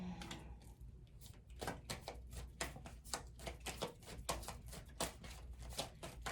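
Tarot cards are shuffled in quick bursts of riffling and slapping, close and crisp but quiet, coming in an irregular rhythm with no voice.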